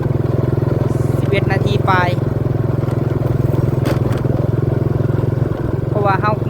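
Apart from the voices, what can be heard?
vehicle driving slowly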